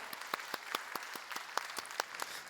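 At a Korean church youth worship service, the congregation gives a round of blessing applause, heard as quiet, fairly sparse and separate hand claps in a steady patter, a little distant and alone without talk.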